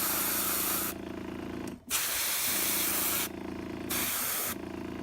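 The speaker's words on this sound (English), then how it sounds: "watching me spray random stuff" Steady hissing bursts of an aerosol spray paint can painting a Sunshark Bomber model, several long sprays with brief pauses between them, close and loud.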